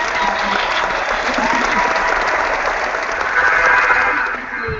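An audience applauds steadily, with many hands clapping in a thick, even patter that swells briefly near the end before starting to fade.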